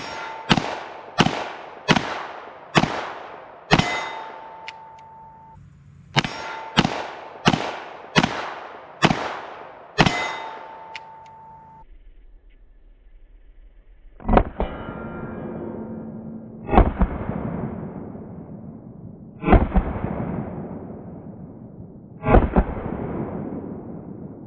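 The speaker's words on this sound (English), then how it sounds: "I'm gonna see how fast I can shoot these and see how I'm gonna get on target." Chiappa Rhino 60DS .357 Magnum revolver fired rapidly double action, two quick strings of six sharp loud shots in fast rhythm, then four slower heavier reports spaced a few seconds apart, outdoors with no talk.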